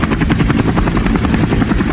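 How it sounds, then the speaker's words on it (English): Near and loud, a helicopter's rotor chops out a rapid, steady pulsing beat, its engine droning continuously beneath, with no talking. "We could do our live helicopter report."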